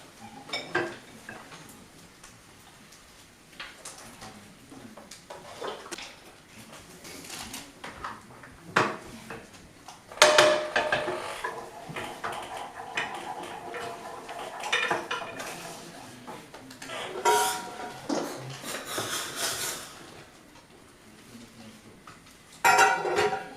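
Saucepan and utensils clatter and clink while a saffron cream sauce is made for whisky-flambéed scallops, with scattered knocks and scrapes that build to busier, louder bursts of handling near the end.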